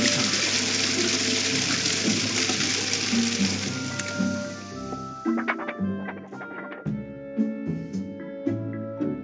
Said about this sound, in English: The flush of my toilet.